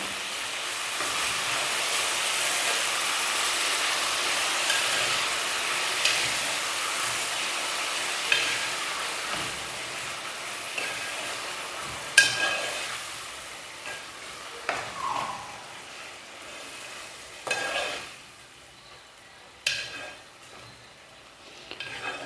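Mutton keema fries in a pan while it is stirred, a continuous close sizzle with scraping strokes and occasional sharp knocks of the spoon against the pan, heard without any talking.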